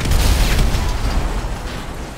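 Sticky bombs detonating in a video game, a loud low boom with rumbling bursts that stay dense through the whole stretch, with no talk over it.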